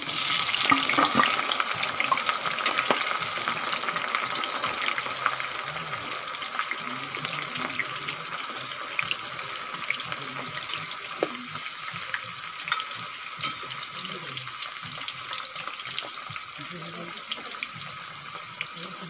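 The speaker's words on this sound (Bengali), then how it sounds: "বন্ধুরা একটু বেশি করে তেল দিয়ে ইচোড়গুলো ভেজে নেব ছাকা তেলে" Young jackfruit deep-frying in plenty of oil gives a bright, steady, hissing sizzle with crackling bursts, close and constant, with faint voices in the background.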